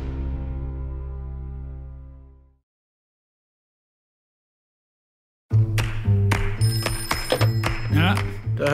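A telephone bell rings with a sustained tone that fades out over about two seconds, followed by silence and then music.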